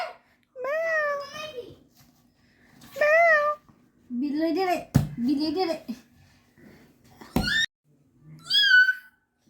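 A cat meows repeatedly in several drawn-out, rising and falling calls with pauses between, close by, with a voice in between.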